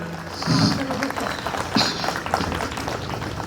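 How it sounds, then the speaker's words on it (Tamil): Audience at a Tamil debate stage show claps, a moderate, steady patter of applause at middle distance with a few louder individual claps mixed in. "நல்ல ஒரு கைத்தட்டு கொடுங்க"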